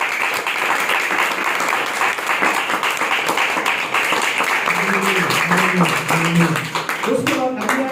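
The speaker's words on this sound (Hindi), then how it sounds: "तो बजाय फिर यीशु मसीह के लिए तालियां।" A church congregation at a healing prayer meeting applauds for Jesus Christ: steady, dense clapping fills the room throughout, and voices and sustained tones rise beneath it toward the end.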